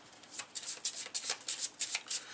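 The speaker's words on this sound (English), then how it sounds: "you want to shuffle the automa cards up real quick" A deck of automa cards for a solo dinosaur-themed roll-and-write board game being shuffled, about ten quick riffling bursts in a steady rhythm, close and fairly quiet, with no talking.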